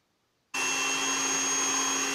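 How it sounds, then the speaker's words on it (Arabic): Electric blender whirring steadily as it crushes garlic cloves with salt for a garlic sauce, a loud continuous motor drone starting abruptly after a short silence and running unbroken to the end. "هلا احنا عم نهرس التومة والملح لحالها اول اشي"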